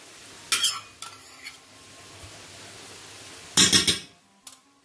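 Tomato paste being stirred into sizzling tas kebab in a pan, with two loud bursts of scraping and clatter a few seconds apart over a low, steady frying hiss.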